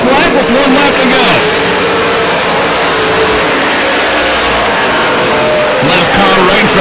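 Super stock race cars racing on the Perris Auto Speedway oval during a main event, loud roaring engines sweeping past with revving and tire skids, under the track announcer's excited commentary.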